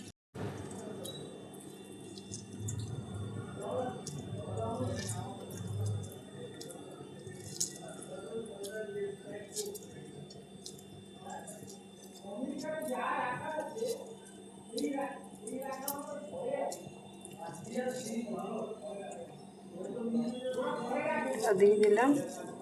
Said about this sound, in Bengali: বাকিটা এভাবে জল চিপে নেব।